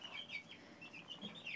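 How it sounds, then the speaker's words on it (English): Young five-week-old chickens cluck and chirp softly inside a chicken house, a faint, steady scatter of small calls with no talking. "that's what's happening in Chayla's chicken house"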